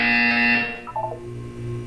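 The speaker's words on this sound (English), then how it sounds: "You will hear a buzzer." A Portal 2 test-chamber buzzer sounds loudly as a sustained tonal drone for about half a second, then fades into a few brief soft blips and a low hum.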